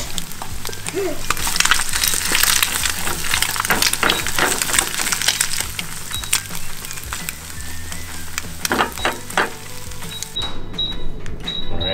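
Eggs fry in a pan for a keto breakfast, a steady hissing sizzle with scattered crackles and pops running throughout, fairly close, over a low background hum.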